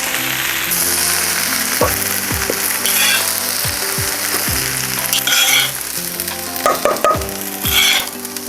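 Oil sizzles and crackles steadily in a pan as cabbage fries, with occasional scraping stirs and clinks of a utensil close by.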